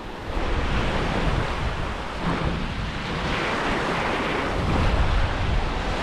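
Ocean waves wash steadily onto a sandy beach, a continuous close surf roar blended with gusty wind noise and no talking.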